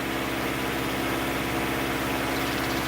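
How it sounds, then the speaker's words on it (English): A Mazda MX5 engine runs at a raised fast idle, a steady close drone with even low rumble and no change in pitch or level throughout. "So if I pick it up off idle, so we'll come on to a fast idle there."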